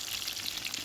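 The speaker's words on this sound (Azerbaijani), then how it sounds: "İndi badımcanları qızardıram." Eggplants frying in a pan, giving a steady, loud hiss and sizzle of hot oil with no talk.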